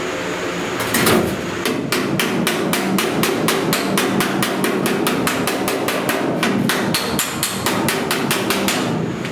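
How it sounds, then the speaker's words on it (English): Hammer-on-dolly dent repair, a hammer striking sheet metal backed by a flat dolly in a rapid, even series of sharp metallic taps, close and loud, with no talking. "That's mostly hammer-on dolly to kind of get work the little pock marks, I call them, out"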